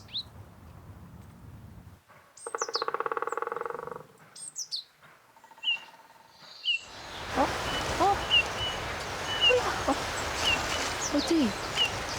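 Several birds call and chirp along a forest footpath on a mountain, with short separate calls early on giving way to a dense, busy chorus of overlapping chirps and tweets in the later half.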